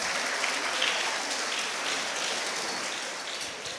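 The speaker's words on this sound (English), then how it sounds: "Let's give our brilliant students a well-deserved round of applause" Audience applause for students at a school celebration, a dense, steady wash of many hands clapping, moderately distant and continuous throughout without speech.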